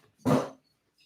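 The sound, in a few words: dogs barking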